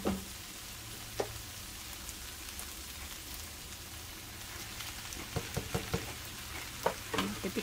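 Liver, onion and tomato sizzle softly in a pan for liver with onions. The frying crackle is faint and steady, and scattered clicks and scrapes from stirring grow more frequent near the end.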